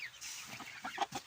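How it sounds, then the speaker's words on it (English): A hen gives a few soft, short clucks close by, brief and quiet. "I'm showing you my hen coop and show you my flock of hens."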